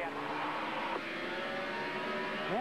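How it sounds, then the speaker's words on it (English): NASCAR stock cars at the 2007 Subway 500 go full throttle on a restart, engines droning loud and steady with a pitch drop near the middle and a rising rev at the end, heard close under radio noise. "we will listen in as we go full throttle for the restart"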